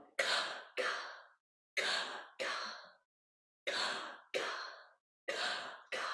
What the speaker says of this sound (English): Little soft palate gasps in and out.